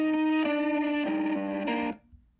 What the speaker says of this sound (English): let's hear how this fade sounds